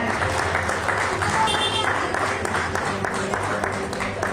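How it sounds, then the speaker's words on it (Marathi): Loud, continuous applause from a large crowd at an employee award ceremony in Satara, with an amplified voice faintly audible beneath it. "एकदा जोरात टाळ्या"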